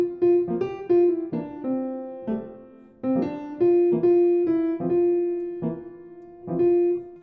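Solo jazz piano plays in a swing feel with chords struck on the and of one and three, giving clear, rhythmically spaced chord attacks that ring out close and alone.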